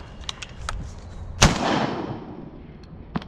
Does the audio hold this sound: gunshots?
yes